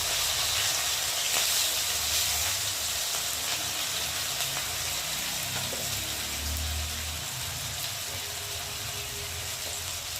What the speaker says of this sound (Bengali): দিয়ে মশলাটা ভালোভাবে কষিয়ে নেবো